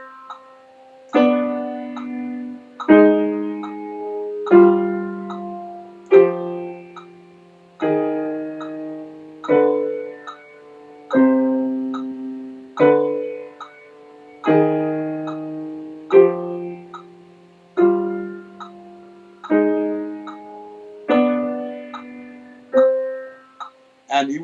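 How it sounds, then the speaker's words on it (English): Piano playing a harmonic minor scale one note at a time, about twenty evenly spaced struck tones in a steady walking rhythm, each ringing briefly before the next, clear and close with no talking. "And the harmonic minor would sound like this."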